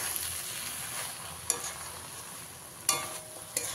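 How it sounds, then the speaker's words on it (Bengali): Pumpkin greens with shrimp being stirred in a pan, a soft steady sizzle broken by a few sharp scraping clinks of a spatula against the metal, close and moderately quiet. "এবার ঢাকাটা খুলে দিচ্ছি, দিয়ে আবারও খুব ভালো করে একবার মিশিয়ে দেবো।"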